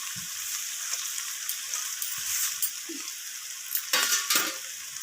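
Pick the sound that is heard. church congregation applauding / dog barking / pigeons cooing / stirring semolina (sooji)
stirring semolina (sooji)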